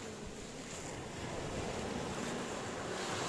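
Sea waves break on Voidokilia Beach in Greece in a loud, continuous surf roar that swells slightly in strength, with wind noise over the water.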